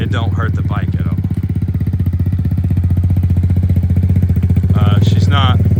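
Dirt bike engine running in third gear at easy throttle, a steady close putter with a rapid firing pulse, while voices talk over it at the start and again near the end.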